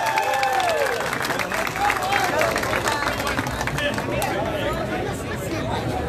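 A crowd at a political candidates' presentation in Villa claps and cheers with overlapping chatter, a steady wash of applause throughout with a voice briefly rising above it.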